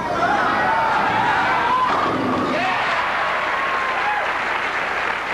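Crowd applause and cheering break out at a 1983 Fair Lanes Open championship bowling match, a steady broadband roar of clapping and voices with a few thuds mixed in, lasting throughout.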